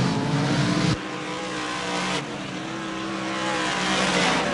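Modified race cars roar off turn four in a feature race, with loud engine noise sweeping past in two sharp pass-by surges and faint tire squeal, and no talk.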